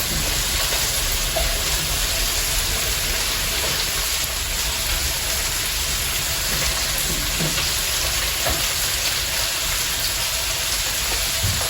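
Chicken and cauliflower fry in a single pan, a loud, dense, continuous sizzle close by, steady like heavy rain, with faint scattered stirring clicks.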